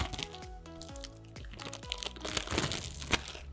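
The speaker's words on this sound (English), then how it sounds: "You're just going to remove it from the plastic." Plastic wrapping crinkles and crackles as a Mehron 3D Gel slab is pulled free, a close run of irregular crunches and snaps with no talking.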